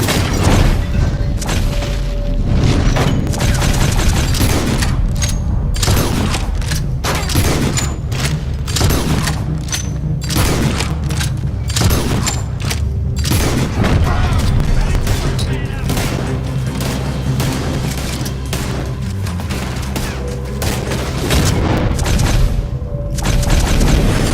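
Dense gunfire rings out in a Red Dead Redemption 2 shootout, with repeated booming shots and volleys firing steadily over a loud, continuous din throughout.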